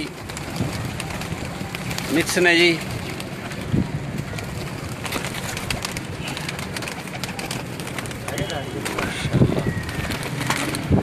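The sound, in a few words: large golden pigeons cooing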